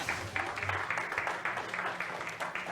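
Audience applause welcoming a speaker onto the stage at a digital talent summit, a steady wash of many hands clapping at moderate volume throughout the short stretch.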